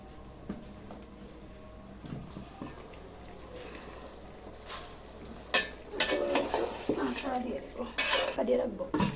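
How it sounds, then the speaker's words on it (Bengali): Beef curry is sautéed in a pot over a clay stove while a spoon scrapes and clatters against the metal, steady at first and then louder, busier stirring near the end, over a soft background sizzle. "ভালোভাবে কষিয়ে নিব।"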